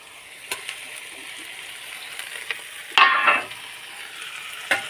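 Onion and tomato being stirred in a hot pan for pav bhaji: soft scraping and low sizzle with a few light clinks and one louder stir-scrape near the end, no talking.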